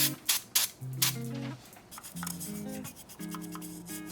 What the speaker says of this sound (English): We're gonna get a toothbrush and then we're gonna spray it with this cleaner and then scrub out all that black stuff.